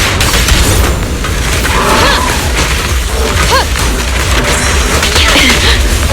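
Dense, loud video game combat, continuous gunfire and booming explosions blended into a constant roar with no pauses.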